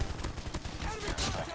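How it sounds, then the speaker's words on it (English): A deployed sentry gun in Call of Duty Mobile fires a rapid, steady stream of close, loud shots, with a faint voice in the mix. "Sentry gun deployed."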